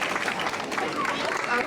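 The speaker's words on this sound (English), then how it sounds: "Let's give them another round of applause." Audience applause at a tenth anniversary celebration, a continuous crowd of clapping hands heard close and fairly loud for the whole short stretch.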